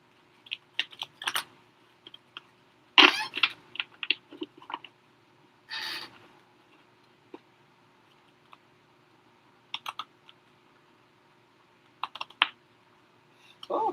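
Intermittent riffling and slapping of tarot cards being shuffled, short bursts separated by quiet pauses, close and fairly crisp.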